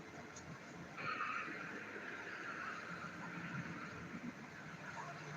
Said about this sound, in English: It is about rush hour right now, so traffic is fairly relentless